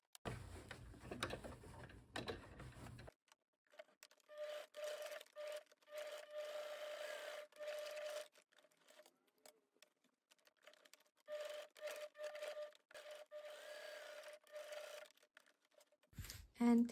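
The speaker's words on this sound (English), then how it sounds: "we will stitch along the top, and after that we will have left to stitch the insides, the vertical stitches" A sewing machine stitching a leather zip pocket for a bag, running in bursts of rapid mechanical chatter with short pauses between runs, quiet and close, after an initial stretch of rustling.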